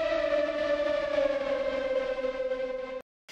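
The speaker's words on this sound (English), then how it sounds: "So I'm gonna add these little swelling synths." A swelling synth pad built in Serum from the Horizons lead preset in Spectrum, ridden on the pitch wheel for a 1989-style pop track: one sustained, harmonically rich tone that slowly drifts in pitch, then cuts off abruptly, alone.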